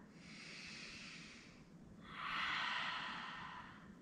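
A yogi in a deep Malasana squat takes one full breath cycle: a soft, airy inhale followed by a louder, longer hissing exhale, close and alone.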